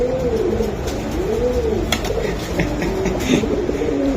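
Racing pigeons coo repeatedly up close, rolling rhythmic calls overlapping one another at a loud level, with light fluttering and clicking noises in between.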